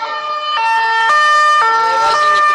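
Police siren passing along a city boulevard in Cannes, a loud close two-tone wail switching pitch every half second or so, over faint traffic rumble and without talk.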